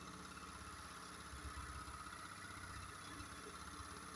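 A bench grinder's PSC motor, fed by a 120V VFD and slowed to about 1000 RPM, hums with a steady low drone and faint vibration, quiet and continuous.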